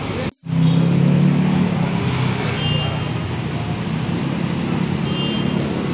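Bus labelled Blackfish 069 pulling out of the Grogol intercity bus terminal, with a steady engine rumble and low drone under continuous terminal and traffic noise.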